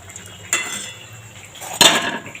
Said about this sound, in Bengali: বুঝতে পারছো কিরকম আওয়াজ হচ্ছে, কিরকম খাস্তা হয়েছে?